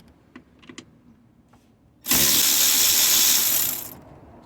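A ratchet working on a 10mm nut on the battery bracket of a 4.4i BMW X5 E53, a few faint clicks followed by a loud, steady two-second burst of rapid ratcheting close by.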